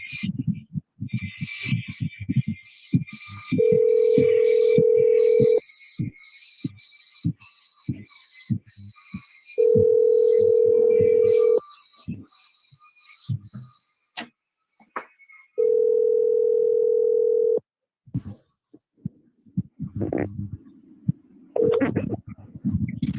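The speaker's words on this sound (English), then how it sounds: "let's try another number for Leon." A telephone dial tone sounds while calling a number: three long steady tone bursts separated by gaps, loud and close, with scattered clicks and dialing noises between them and no talk.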